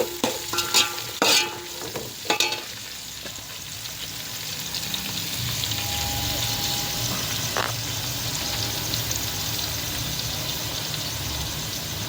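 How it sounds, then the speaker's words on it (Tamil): Sliced onions sauté in a hot pan for South Indian fish kulambu, giving a steady, close sizzle and fry that runs throughout, with a few sharp stirring clatters near the start. "வெங்காயம் ஆல்ரெடி கழுவி இப்படி கட் பண்ணி வச்சுட்டு வதக்கணும்."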